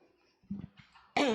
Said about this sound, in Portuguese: Perdão, irmãos, essa tosse aqui.